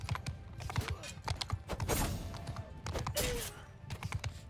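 Horse hooves in a game set during a slave uprising, with archers nearby, tapping in an irregular, rapid clatter of close hoofbeats under busy background noise.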